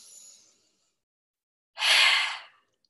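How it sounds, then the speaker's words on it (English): A deep breath drawn in and let out during an at-home stretching workout: a soft brief inhale, a pause of silence, then a longer, louder breathy exhale, close and alone. "Take a deep breath here. And exhale, 1 more."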